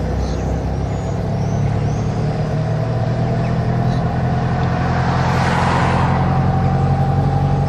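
A car approaching on a road near a roundabout, a steady engine and road rumble building slightly louder as it nears, with broad traffic noise and no talk.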